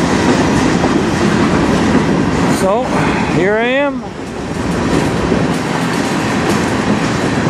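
A CN train rolls past on the Strathroy Subdivision in Sarnia, a loud continuous rumble of wheels and cars filling the whole stretch, with a rising horn-like tonal sweep midway and a person speaking briefly over it.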